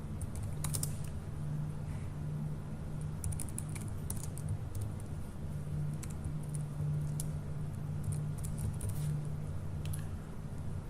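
Light, quick typing on a computer keyboard with occasional sharper clicks, steady and close over a constant low hum throughout.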